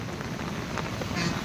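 Rain falls steadily on a street during a cyclone, a dense close hiss filling the short moment without any clear voices.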